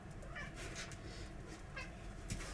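A kitten mews faintly several times, short high calls spaced over a steady low background hum in a converted school bus.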